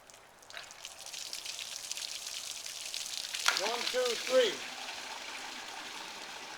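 Water gushes and splashes out of an old Ford Model A radiator into a bucket after the drain plug is pulled during a flow test, a steady rushing pour with a person counting aloud over it.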